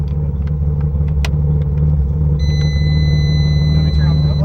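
A BMW E30 fitted with a swapped M50 engine idles loudly and steadily close by, a deep continuous rumble with no revving, while occasional faint clicks and a steady high tone sound over it.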